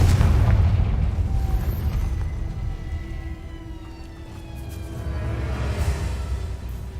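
A Confringo spell explodes in Hogwarts Legacy as a loud, deep, rumbling boom that swells at the start, then rolls on as a sustained roar that fades slightly and rises again.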